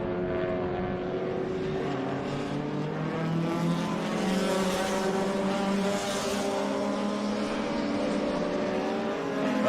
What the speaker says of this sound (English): There's Dennis Racine, that Mini, and then the 711